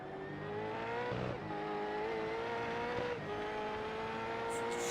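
A GEN3 V8 race car engine at Long Beach Circuit heard from a roof-mounted camera, a loud steady harmonic drone holding a high gear with brief dips and recoveries, continuous throughout with no talk.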